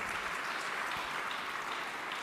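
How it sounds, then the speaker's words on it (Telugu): A church congregation claps together during a Telugu prayer service, a steady, dense wash of many hands applauding continuously throughout, close and even in loudness with no voices standing out. "ఆ చప్పట్లు కొట్టి దేవుని స్తోత్రం."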